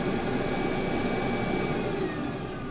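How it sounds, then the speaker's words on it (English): A BEAM central vacuum system runs with a steady, dense whooshing roar and a faint high whine, close and constant throughout. "Now the exhaust system, I'm going to turn this on. It's nice and quiet."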